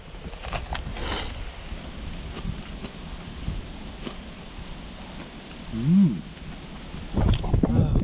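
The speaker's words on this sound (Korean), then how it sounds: "바람 많이 분다." Strong gusting wind buffets the microphone outdoors on the Camino de Santiago pilgrimage route in Spain, a steady rumbling roar with louder bursts near the end.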